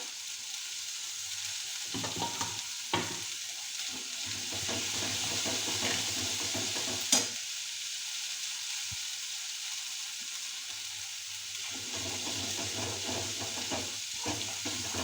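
A spinach paneer masala with kasuri methi and cashew paste is sautéed in a pan, giving a steady hissing sizzle throughout with occasional soft stirring scrapes and one brief clink, no voices.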